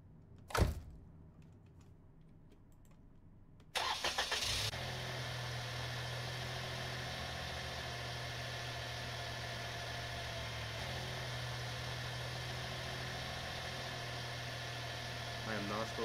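Engine of a car in a video game turning over with a brief burst, then settling into a steady, continuous idle hum with low rumble; an earlier short thud precedes it and no one talks.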